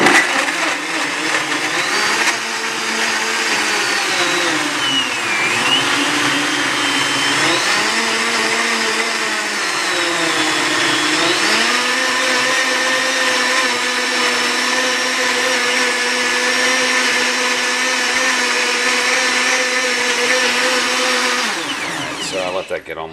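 A countertop blender runs a smoothie program on blueberries, banana and protein powder, a loud, sustained whirring roar whose pitch rises and dips as the motor cycles, then cuts off near the end.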